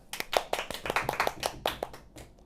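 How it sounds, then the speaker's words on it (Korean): Students in a university chemistry lecture clapping together, a short burst of quick, uneven claps that sounds close and moderately loud, with no talking over it. "박수."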